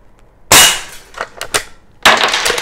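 Two loud, close lever action rifle shots ring out with a metallic rattle of the lever cycling and a shell ejecting between them, heard without any voices.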